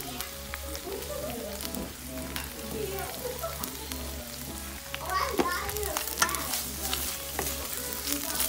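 Fish seasoned with Old Bay sizzles steadily in a hot pan, a continuous crackling fry with brief stirring scrapes and faint background voices.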